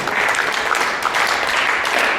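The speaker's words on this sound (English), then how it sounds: "Give them a big round of applause, everybody." An audience claps in a brief, steady, dense burst of applause, close and fairly loud throughout.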